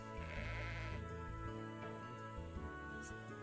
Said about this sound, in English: Okay, it is a sheep.